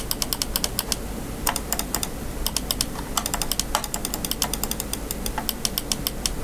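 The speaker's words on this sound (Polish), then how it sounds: "Każda z tych myszek posiada rewolucyjne przełączniki Optical Magnetic." Gaming mouse buttons fitted with Optical Magnetic switches click in quick irregular runs of sharp, close taps, heard alone over a faint steady background hum.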